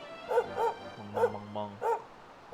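A dog in the Dragon Quest XI video game barks several times in short, evenly spaced, close woofs over faint game background music.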